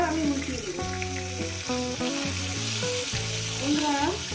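Bhetki fish pieces fry in a pan with a steady, close sizzle, while a loud tonal melody plays over it and partly masks the frying.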